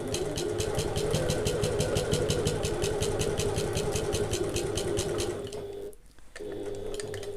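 A home sewing machine runs a long basting stitch on a handbag, a steady motor whir with rapid even needle clicks, close by, that stops briefly near the end and then starts again.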